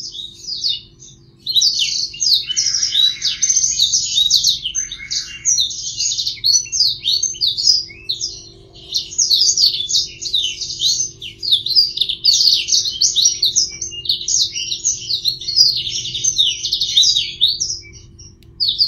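Bright, rapid chirps and twittering from a pair of blackthroat birds during pairing, the male singing eagerly, repeated bursts with brief pauses, close and clear over a quiet low hum.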